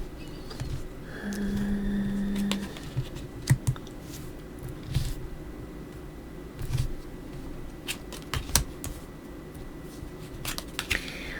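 Tarot cards being handled and laid out, with soft papery shuffles, flicks and light taps scattered over about eleven seconds, close and fairly quiet with no talking.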